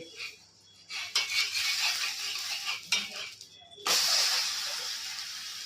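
Methi thalipeeth flatbread frying in a pan as the lid is lifted, with a clatter of utensils, then a steady bright sizzle and hiss swelling loudly near the end.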